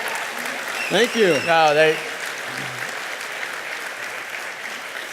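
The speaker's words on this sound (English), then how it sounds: "I guilted them into clapping." A church audience at a Celebration Sunday service claps in a steady, even wash of applause that continues throughout, while someone speaks briefly over it near the start.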